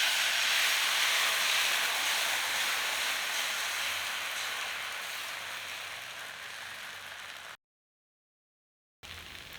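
Dosa batter spreading across a hot tawa over a low to medium flame gives a steady, close, broadband sizzling hiss that slowly fades, then cuts off abruptly to silence before briefly resuming.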